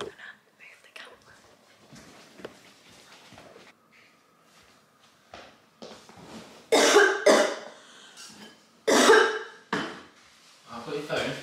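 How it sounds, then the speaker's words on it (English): A person fakes rough, harsh coughing fits as part of a blood-coughing prank, two loud bursts standing out after stretches of quiet whispering and small rustles. "Are you still coughing up blood?"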